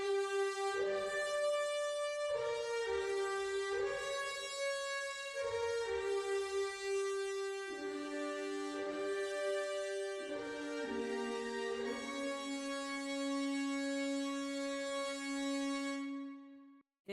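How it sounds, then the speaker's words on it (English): Orchestral melody in MuseScore software playback, played by trumpets and horns over sustained harmony, broad and steady for about sixteen seconds before cutting off; no talking. "we have our main melody in the trumpets and the horns."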